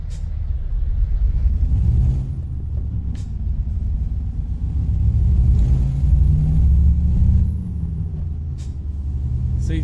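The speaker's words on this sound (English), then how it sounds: "just listen to that engine" A heavy Mercedes-Benz 1519-1525 truck engine rumbles steadily in Euro Truck Simulator 2, low and continuous, rising and easing slightly, with a brief hiss near the start.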